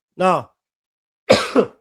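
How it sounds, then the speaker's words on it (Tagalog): Two close, dry coughs separated by a pause, the second a double hack; nearby, with silence around them. "Ang hirap mag-vlog ng inuubo"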